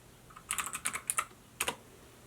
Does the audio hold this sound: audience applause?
no